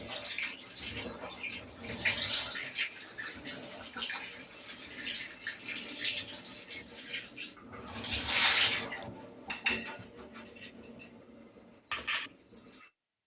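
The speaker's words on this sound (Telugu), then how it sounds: "ఇప్పుడైతే టమాటాల్ని మంచిగా ఫ్రెష్‌గా వాష్ చేసుకొని పెట్టేసుకోవాలి." Fresh tomatoes being washed under running water in a home kitchen for tomato chutney, with steady splashing and clattering of produce and dishes through most of the clip, swelling loudest near the end before stopping.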